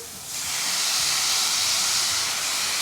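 Flank steak for carne asada sizzles loudly on a Ninja Foodi Pro XL grill just after being flipped, a steady bright hiss swelling in after a brief quieter start and holding without talk.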